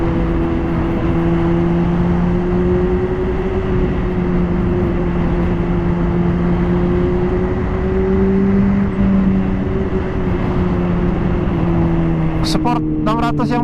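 A Honda CBR 600 RR HRC Edition 600cc sport bike hums along at a steady engine pitch while riding, its tone rising and falling slightly, with a rider's voice over it near the end.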